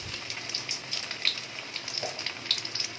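Potato chicken cutlets and cheese balls fry in hot oil with a soft, continuous crackling sizzle dotted with small popping spits, heard alone.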